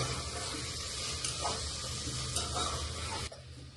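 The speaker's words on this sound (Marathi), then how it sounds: "वटाणा टाकून घेतो त्याचं सगळं मिक्स करून घेतो" Peas being stirred into masala rice in a pan, a steady scraping and gentle sizzle running continuously at close range, with no talk.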